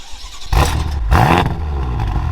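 A 700 hp BMW M5 engine revs twice with the exhaust valve closed, two loud close blips rising and falling, then a steady muted idle.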